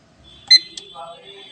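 A digital laboratory timer used for bleeding and clotting time tests gives a few short electronic beeps as its buttons are pressed, brief and close, spaced irregularly over a quiet background.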